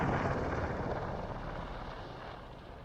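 An Apache attack helicopter flies low over an RAF airshow, its rotor and engine making a loud, continuous rumble that slowly fades.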